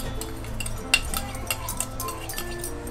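A spoon stirs green chili paste into barnyard millet (bhagar) simmering in a pot for fasting-day kurkure, with scraping strokes and a few sharp metallic clinks, one louder tap near the start, close up with a low steady cooking hum underneath.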